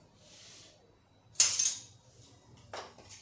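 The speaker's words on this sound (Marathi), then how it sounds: "ढोकळ्यावर आता मी फोडणी घालते" A few short bursts of sizzling hiss, the loudest in the middle and a quieter one near the end, as hot oil tempering with sesame seeds is poured over cucumber dhokla.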